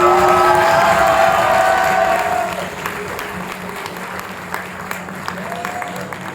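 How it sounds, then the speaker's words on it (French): An audience claps loudly at the final of an eloquence contest, with dense sustained applause and a few cheers that fade gradually to a softer patter. "d'applaudissements pour Elena."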